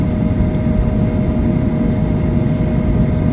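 Cabin of a Garuda Indonesia airliner just after landing at Balikpapan, with a loud, steady low engine rumble and roar filling the space and no talk.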